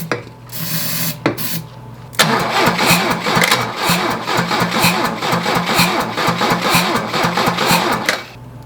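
A 1982 Lada's engine is cranked by the starter, which whirs in a fast, steady rhythmic churn for several seconds after a couple of brief false starts, then stops.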